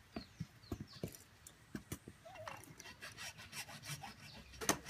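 A grey water plumbing pipe being cut by hand, giving quiet, irregular rasping strokes that speed into a quicker sawing rhythm, close but faint, with no speech.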